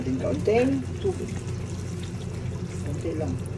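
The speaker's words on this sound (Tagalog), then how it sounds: "Lagyan natin kaunting tubig." A little water trickles and sizzles into chicken curry in a pan, a soft continuous pour beneath a voice speaking near the start.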